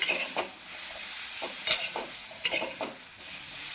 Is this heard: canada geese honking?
no